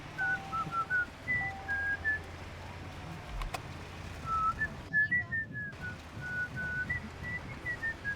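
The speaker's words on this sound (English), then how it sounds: "I expected your whistle to sound a little more Virginian for some reason." A person whistles a tune in short melodic phrases with brief pauses, fairly quiet against a soft background hum.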